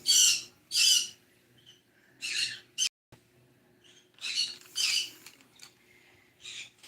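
Small parrots give sharp, high squawks in short bursts, several calls spaced irregularly with quiet gaps between, close to the microphone.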